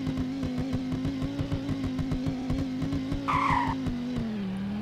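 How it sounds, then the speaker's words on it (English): A 2008 Bullhorn Python ATP in the Roblox game Greenville revs hard and launches, its steady engine drone joined by a brief, loud tire squeal and skid, then dropping in pitch as it eases off. "So, the launch is pretty good when you rev"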